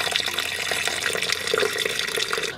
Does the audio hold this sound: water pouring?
yes